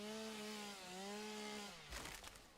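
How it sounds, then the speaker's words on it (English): A video game chainsaw clears bushes, its engine whining in a steady tone that dips and rises in pitch, then gives way to a burst of crunching cuts near the end. "I'm gonna chainsaw it out of the way"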